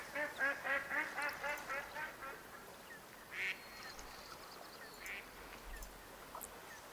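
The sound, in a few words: ambient wild ducks quacking in Way of the Hunter video game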